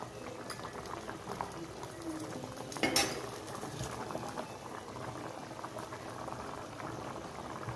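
A fried magur fish head simmers in bubbling curry: a close, steady boil with soft liquid patter, and one sharp clink of a pot or utensil partway through.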